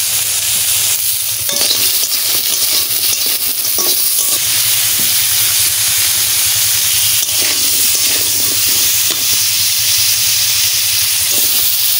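Crab frying in hot oil for a spicy crab curry: a steady, close, dense sizzle and hiss with faint stirring scrapes, continuous for the whole stretch with no talking.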